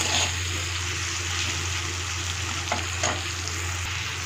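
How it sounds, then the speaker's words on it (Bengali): Tomatoes with salt sizzle and fry steadily in a pan, with a few soft scrapes and thuds as a spatula tip mashes them down; no speech. "ভালো করে একটু খুন্তির মাথাটা দিয়ে একটু ম্যাশ করে দিচ্ছি।"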